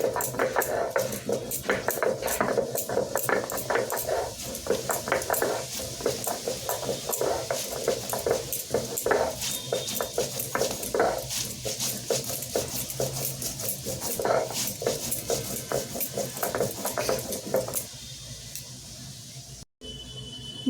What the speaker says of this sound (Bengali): সবার প্রথমে আমি হাফ চামচ জিরে আর হাফ চামচ ধনে একসাথে বেটে নিচ্ছি